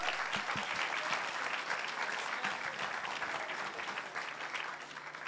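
A festival audience applauds steadily throughout, a dense and even wash of many hands clapping at moderate distance, with no speech over it.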